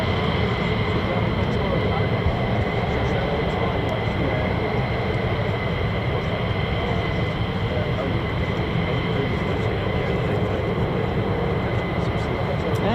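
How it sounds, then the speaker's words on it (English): An F-35 fighter's Pratt & Whitney F135 turbofan starts up at the RAF Lakenheath airfield, producing a constant, loud, broadband roar with a steady whine that holds without change throughout. "And I can hear F-35 starting up as well."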